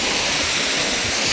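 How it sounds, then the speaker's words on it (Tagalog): The Minoh waterfall in Osaka, Japan pours in a dense, steady roar of falling water, loud and close with no voices. "pakita ko sa inyo yung falls."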